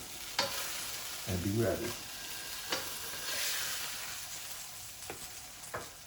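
French toast frying on a stovetop pan, a soft sizzling hiss beneath a few clicks and knocks of utensils, close and moderately quiet, with a brief spoken voice.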